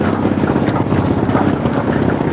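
Boats run steadily at a small river launch ghat on the Buriganga, a continuous low engine drone mixed with water and wind noise, close and fairly loud without pause.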